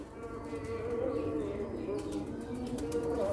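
Pure Sialkoti pigeons flapping their wings in a loft, a steady soft fluttering rustle that runs throughout over a low hum, with faint cooing.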